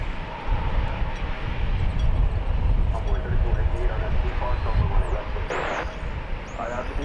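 An airplane roars steadily on the runway at DFW Airport on a Sunday morning, a loud continuous engine rumble with brief radio chirps and squeals layered on top.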